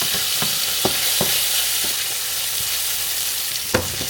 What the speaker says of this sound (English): I'm going to grab a spatula real quick and we're going to stir around the bacon